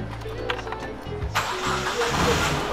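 A car engine cranks, then catches and starts, settling into a loud, rough rumble up close.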